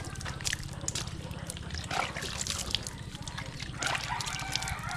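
Water splashes and trickles as a camera tripod is washed with water scooped from a barrel, an irregular run of sloshes and drips close by under a low steady hum.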